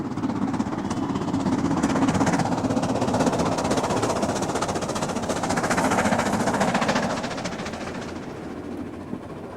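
A Duchess steam locomotive works hard along the Settle to Carlisle line, a loud continuous roar of exhaust and running gear that holds steady, then eases slightly toward the end.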